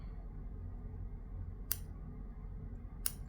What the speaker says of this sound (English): And we'll trim off our excess here.